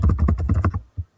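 A few quick keystrokes are tapped on a computer keyboard during Microsoft Word work, a close, soft burst of clicks followed by a short pause and a single final key press.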